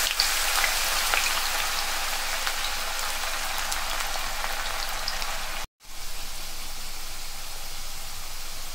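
Potato pieces deep frying in hot oil in a kadai, a steady, loud, hissing sizzle with crackling bubbles, broken by one brief cut to silence partway through.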